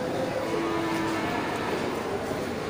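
A jumbo Simmental cow weighing about a ton gives a drawn-out low moo amid a steady murmur of a crowded livestock venue.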